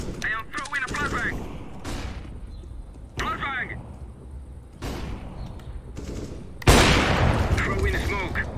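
Flashbang thrown during a CS:GO match amid bursts of rapid gunfire, ending in a sudden loud bang that sweeps across the sound, with game voices and chatter heard throughout.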